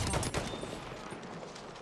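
A short burst of incoming gunshots on the Prise de Tahure map in Battlefield 1, a few sharp cracks at the start that fade into distant battle noise, with faint talk underneath.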